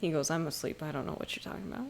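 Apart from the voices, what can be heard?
No everyday noises stand out.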